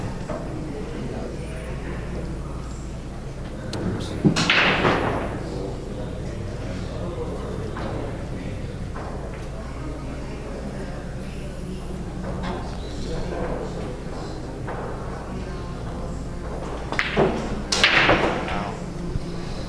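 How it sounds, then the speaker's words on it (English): Break shot in a 10-ball pool match at the Hard Times hall, a sharp crack of colliding billiard balls followed by brief clattering, with a second burst of ball contact later over a murmuring room and quiet talk. "3-3 with Can breaking."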